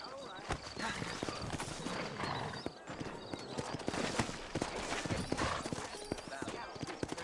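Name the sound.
horse hooves clip-clopping, from a video game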